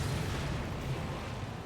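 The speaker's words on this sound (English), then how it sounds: "he is like rocking my world with that explosion" A loud, sustained rumbling explosion in an online fantasy MMO dungeon run, a dense low boom that stays steady for under two seconds with no voices over it.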